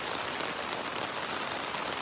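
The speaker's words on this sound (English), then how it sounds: "it's raining quite hard right now, and I'm in my brand new, very expensive Z-Packs duplex tent" Heavy rain drums steadily on a Z-Packs Duplex tent, a dense, even hiss heard close up from inside with no breaks.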